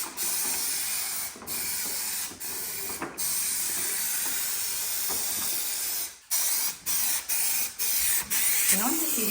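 3M high strength spray adhesive hissing from an aerosol can in a steady near spray lasting about six seconds, followed by a run of short separate bursts.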